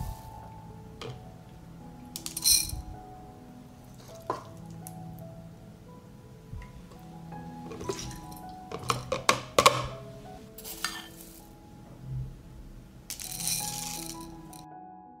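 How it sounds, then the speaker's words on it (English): Glass jars are filled with meat and rice, bringing scattered clinks, soft rattles and wet squishing noises at close range, spaced irregularly over quiet stretches. "Do not fill the jars to the top, and I will fill all the jars in the same way."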